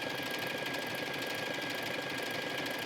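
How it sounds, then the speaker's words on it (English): A sewing machine running steadily at a faster speed, stitching a decorative seam across the top of mesh-pocket leggings, a continuous close mechanical whir and rapid ticking with no talk. "And now I'm just going to stitch across, all the way across the top"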